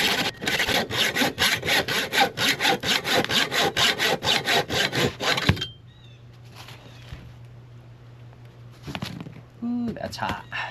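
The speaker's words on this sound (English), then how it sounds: "my weapon of choice is a hacksaw and a flat file" A hacksaw cuts through metal during a Sprinter van swivel seat install, making about a dozen rapid, rhythmic rasping strokes up close before stopping, followed by quiet handling noises and a short voice.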